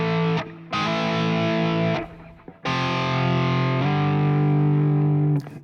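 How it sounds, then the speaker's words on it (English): Heavily distorted electric guitar strikes sustained power chords, A5, F5 and G, loud and close, with brief gaps between chord changes and no voices. "You can just play A5, F5, G."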